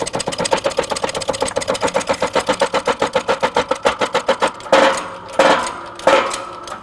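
A wheel bearing is pressed into the steering knuckle of a 2012-2019 Fiat 500 with a hand-pumped hydraulic press. Rapid, even mechanical pumping strokes run steadily, then slow into a few heavier, louder pumps with strained creaks as the bearing seats.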